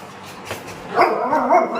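A female dog gives a couple of short, yelping barks at moderate distance, with faint background noise.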